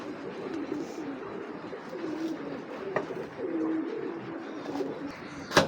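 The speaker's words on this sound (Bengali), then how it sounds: "এটা কিন্তু পাল্লা করা কবুতর" A domestic pigeon in a loft coos in soft, low, repeated phrases at close range, with faint chirps and light rustling around it.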